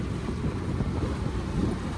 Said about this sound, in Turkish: Çok ciddi rüzgar var bugün.